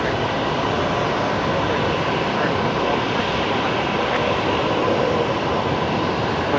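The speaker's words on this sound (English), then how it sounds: "we've got Air New Zealand now rolling as well" Air New Zealand Airbus A321neo rolling for takeoff at Brisbane Airport, heard as a steady, broadband engine roar and rumble that stays loud and even throughout, with no voices over it.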